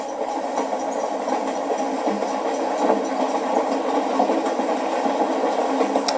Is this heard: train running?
yes